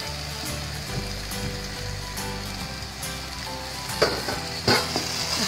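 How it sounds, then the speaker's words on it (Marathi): Prawns frying in masala in a hot pan, a steady close sizzle with crackles and a few stirring clatters near the end, no talking. "आता आपण याच्यामध्ये कोळंबी घालून घेऊया."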